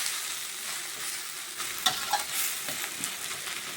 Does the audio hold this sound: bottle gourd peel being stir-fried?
yes